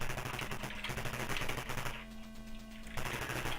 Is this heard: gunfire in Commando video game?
yes